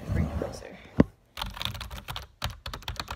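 Close, quick bursts of keystrokes on a KM636 keyboard, clustered taps separated by short pauses, with a voice speaking briefly at the start.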